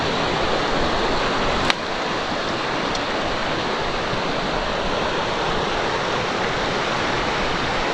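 A back-country New Zealand river rushes steadily in a continuous loud, broadband roar, with one brief click near the start.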